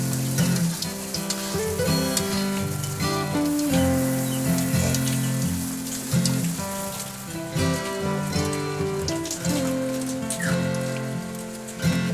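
Pitha cakes fry in oil beside a clay stove with a steady, close sizzle. Sustained tonal sounds run underneath, and nobody speaks.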